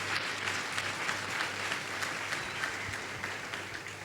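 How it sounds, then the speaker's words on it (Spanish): Steady congregational applause for Christ during a church sermon, a fairly quiet, even wash of many hands clapping that continues unbroken throughout, heard from a distance with no speech on top. "Dale un aplauso a Cristo fuerte."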